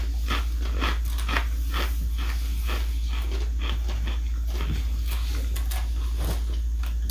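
Crunchy six-sided nacho cheese tortilla chips are bitten and chewed close up, giving a steady series of crisp crunches over a constant low hum, with no talking.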